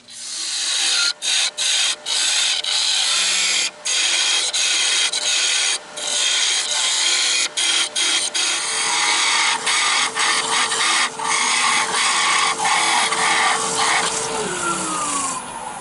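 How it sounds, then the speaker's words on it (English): A lathe parts off a turned part for a replica Dalek, a continuous loud grinding, rasping cut broken by brief pauses, with a tone that slides near the end as the piece thins. "So I am now actually going to part this off."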